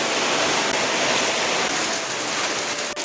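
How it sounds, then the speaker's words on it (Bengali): Steady rain pours down under a dark, heavily clouded sky, a dense continuous hiss with no gaps, loud and close throughout, with no voices. "তো বৃষ্টি পড়ছে"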